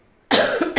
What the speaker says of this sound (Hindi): अभी गला खराब चलने की वजह से बीच में खांसी उठती है